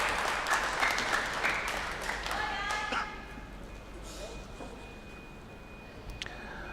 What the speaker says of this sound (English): there you have the fans of Elmer